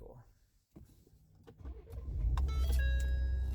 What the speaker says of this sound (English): 6-cylinder rumble sounds awful.